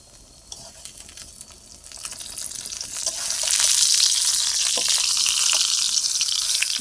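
Stuffed spiny gourd (kakrol) frying in a pan at home, a low sizzle that swells into a loud, steady hiss of hot oil over several seconds, with occasional stirring clinks.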